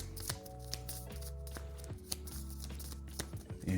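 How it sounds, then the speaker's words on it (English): A deck of cards from the GI Joe deck-building game, Shadow of the Serpent expansion, being shuffled by hand in a close, fairly quiet run of soft riffling clicks and slaps lasting a few seconds. "And get that a good shuffle."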